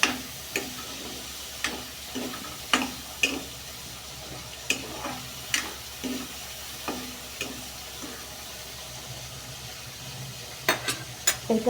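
Garlic and onion paste fries in a pan with a low sizzle, while a utensil scrapes and clicks against the pan at fairly regular intervals, close and clear.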